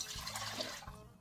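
Water poured for sauerkraut brine, a short continuous splashing and gurgling pour lasting about a second, close and moderately loud, with no talking.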